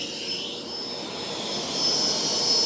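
A Bissell FlexClean robot vacuum fan running at its middle setting gives off a steady airy whoosh with a high whine, swelling slightly louder toward the end, with no voices.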